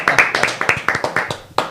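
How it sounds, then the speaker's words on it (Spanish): Studio audience applause on a talk show: a short run of sharp, distinct hand claps in an uneven rhythm, close and fairly loud, with no other sound. "¡Aplauso!"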